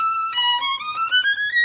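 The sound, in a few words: violin passage from St. George Concerto Opus 5 number 2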